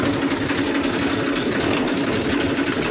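Tractor engine idling close by, a steady low rumbling drone with an even mechanical chatter and no change in pace, heard alone without speech.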